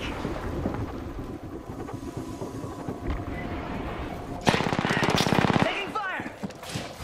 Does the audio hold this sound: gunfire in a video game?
yes